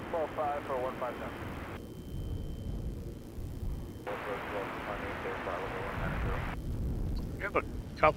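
Aircraft taxiing along an airport taxiway at Oakland, a steady engine rumble with a distant whine, heard under air traffic control radio chatter and someone talking.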